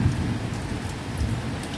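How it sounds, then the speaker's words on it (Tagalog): Steady rain pattering on surfaces during a storm, with low rumbling of thunder underneath; a continuous moderate wash of sound with no voices. "Kulog-kulog."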